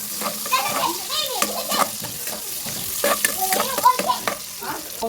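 Garlic and onion sizzle and are stirred in a home pan, with spatula scrapes and clinks over a soft frying hiss while children's voices chatter in the background.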